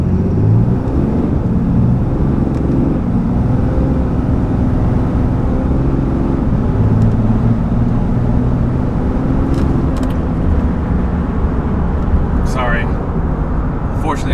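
Ford F350 pickup on 35-inch tires accelerating hard on a highway, a loud, constant engine and road drone heard from inside the cab for about fourteen seconds, with a voice talking over it in spots.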